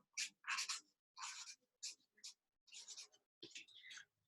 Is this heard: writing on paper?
yes